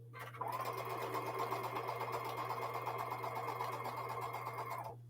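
Sewing machine stitching blue and white quilt fabric squares, a continuous close mechanical whir with a rapid needle rhythm running for several seconds before stopping, over a steady low hum.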